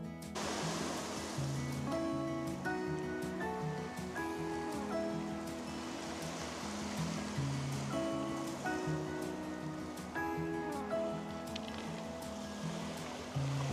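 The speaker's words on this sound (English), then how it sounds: "Lovely little bay here. Pebbly beach." Waves wash steadily onto a pebbly beach in a small bay at Middle Hope, North Somerset. The surf is a continuous, fairly close rush with no talking.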